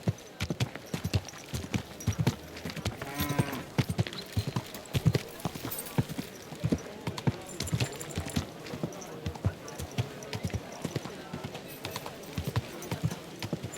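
Horse hooves clip-clop in a quick, steady rhythm on a hard surface in the video game Kingdom Come: Deliverance II, with occasional voices and a brief whinny.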